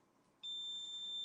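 An electric clothes iron with low, mid and high temperature settings gives a steady, continuous electronic beep. The tone starts partway through and holds unbroken to the end in a quiet room.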